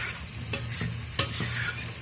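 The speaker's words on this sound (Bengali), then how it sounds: "তেল না ছাড়া পর্যন্ত এইভাবে নেড়ে চেড়ে ভালো করে কষিয়ে নেব।" Ground spices with Kashmiri red chili powder fry in oil and are stirred, a soft steady sizzle broken by scraping spatula strokes and light knocks against the pan, with no voices.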